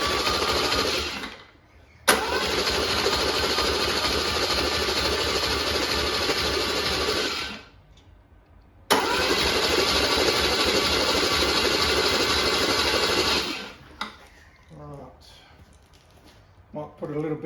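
A Holden 161 red motor turns over on its starter off a weak battery in two long, steady, whirring cranking bursts that never catch, separated by a brief pause, then quieter clunks and a voice as it stops.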